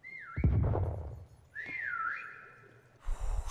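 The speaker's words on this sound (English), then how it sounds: "We have a whistle in literally 2 seconds." A whistle heard at night near a balcony, two sliding, warbling notes separated by a thumping bump, close and clear, followed by a burst of noise at the end.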